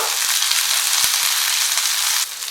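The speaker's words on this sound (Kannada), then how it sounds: "ಈರುಳ್ಳಿ ಸ್ವಲ್ಪ ಫ್ರೈ ಆಗಿದೆ" Onion and green chillies frying in a pan, with a steady, loud sizzle throughout and a few light taps and stirring clicks; the sizzle drops slightly near the end.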